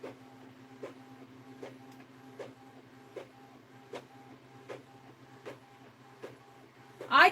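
An Epson printer runs quietly at close range, a soft repeating clack landing about once per second over a low mechanical hum, ending in a louder burst of rattling.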